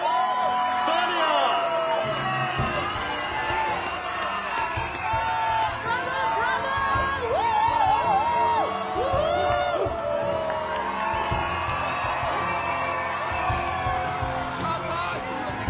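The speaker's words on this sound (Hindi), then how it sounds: "तालियां।" Large crowd cheering, whooping and applauding at a robot competition finals on stage, a loud continuous roar with shouts rising and falling, mixed with talk.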